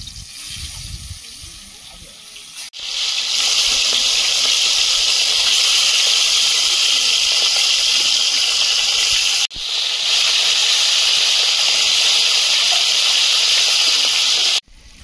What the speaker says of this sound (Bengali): মাছগুলো ভেজে নেব